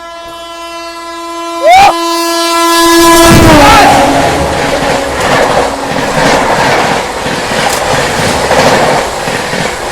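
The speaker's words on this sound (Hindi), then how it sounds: "और दोस्तों पहले यहाँ आ रही है हावड़ा राजधानी एक्सप्रेस" Howrah Rajdhani Express sounding a long, loud harmonic horn as it approaches, then roaring past close by with a broad rumble of wheels and carriages that continues to the end.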